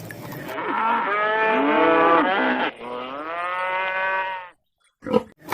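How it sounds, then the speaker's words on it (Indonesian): A cow moos twice as a sound effect in a video about cleaning toy farm animals: a long, loud, tonal low with falling pitch, then a second shorter moo, followed by brief thumps. "Ini seekor sapi."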